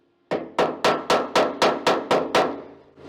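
Hammer striking sheet metal while shaping a custom tailgate insert, nine sharp evenly spaced blows in a steady rhythm, loud and close with ringing decay, no talking.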